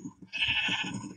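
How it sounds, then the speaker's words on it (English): Bleating from sheep in the video game Minecraft, a steady nasal call with a short faint bleat first, then a sustained louder one of about a second, heard alone without speech. "that person has a lot of sheep."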